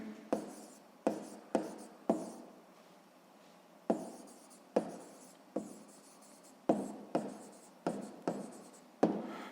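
Pen strokes writing a math answer on paper, a series of about a dozen sharp, close scratching taps in an irregular rhythm, heard alone in a quiet room.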